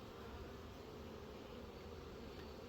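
Honeybees from newly installed bee packages buzz in a continuous, even drone, faint and steady with no voices.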